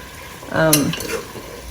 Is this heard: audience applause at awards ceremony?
no